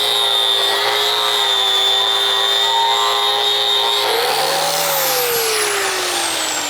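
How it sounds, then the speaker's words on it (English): Angle grinder working a weld on a metal sculpture, a loud steady whine held close up that shifts pitch partway through as the disc loads and eases off. "let me get this going"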